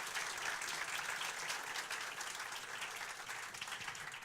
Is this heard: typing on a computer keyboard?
no